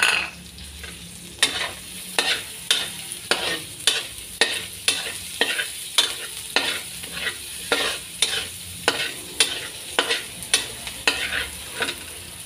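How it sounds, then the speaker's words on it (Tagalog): Onions sautéing in a pan for a crab dish, a soft steady sizzle broken by a regular series of sharp stirring scrapes and clacks, close and clear with no talk. "Ang ating ginisa. Lagay na po natin ang sibuyas."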